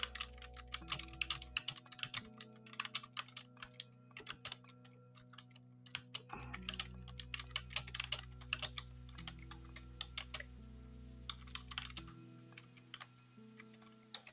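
Fingers tap quietly on a computer keyboard in irregular bursts of light clicks, with short pauses between them, over a steady low background hum.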